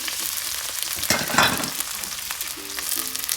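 Garlic, pepper, ginger and red chilli sautéing in a pan, a steady close sizzle with a brief louder burst of stirring in the middle and no voices.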